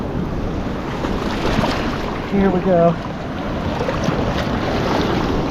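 Ocean waves washing in on a razor clam beach, a continuous rushing wash with wind noise on the microphone, swelling briefly midway as someone speaks a few words over it.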